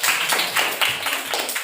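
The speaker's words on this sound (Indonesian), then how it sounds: "Tepuk tangan buat teman kamu" Pupils in a classroom applaud a classmate, a quick run of many hands clapping in uneven bursts, close and bright, with no talking.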